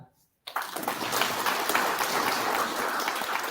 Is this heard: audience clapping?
yes